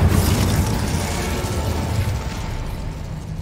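Incendio fire spell in Hogwarts Legacy, a loud whooshing burst of flame that rumbles on for a few seconds amid steady game sound, no voices.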